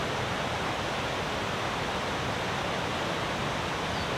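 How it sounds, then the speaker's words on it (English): Rain falling around a tent in the New Zealand Alps, drops dripping off the tarp into a steady, close wash of broadband patter, heard alone without voices. "every now and then you can hear a little pitter-patter. You can see all the drops dripping off the tarp."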